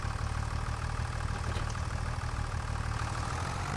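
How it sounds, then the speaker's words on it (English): A tractor engine runs at a steady, loud idle out in a rural setting, a constant low rumble that carries through the whole stretch with no talk over it. "I can't really hear because, you know, tractors are loud"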